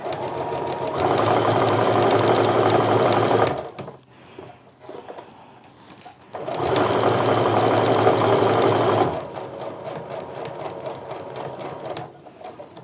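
A sewing machine stitches a quarter-inch quilt seam in two steady, close runs of about three seconds each, with a pause of softer handling noise between them and a quieter tail at the end.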